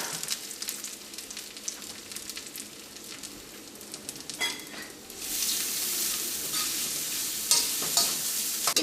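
Grated coconut roasts in coconut oil in a pan, a quiet, close sizzle with the scrape of stirring that grows brighter and steadier halfway through, with occasional sharper clinks.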